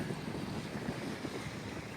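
Wind buffets steadily at a lakeside beach campsite at Lake Powell's Lone Rock, a constant low rumbling rush with no breaks and no voices.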